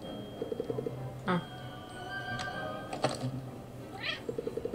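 A cartoon cat meows a few times in the video game Cat Quest 2, short chirpy calls set against bouncy game music and sound effects.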